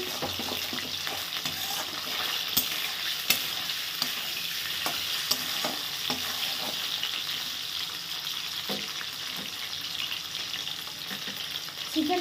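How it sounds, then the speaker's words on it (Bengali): Chicken pieces fry in a pan for several seconds, giving off a loud, steady hissing sizzle with scattered pops and a few sharp utensil clicks. "চিকেনটা এখন ভাজা হোক"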